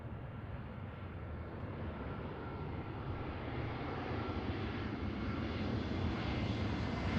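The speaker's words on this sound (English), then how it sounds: "here's an A321, Hawaiian Airlines, 839." A Hawaiian Airlines Airbus A321 jet arrives after a long flight from Honolulu, its steady, distant engine roar slowly swelling as it approaches.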